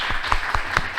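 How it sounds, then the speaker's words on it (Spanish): A few separate, fairly distinct claps ring out from an audience at a scientific heritage conference, a brief burst of clapping at a moderate level. "pues ahora un aplauso fuerte."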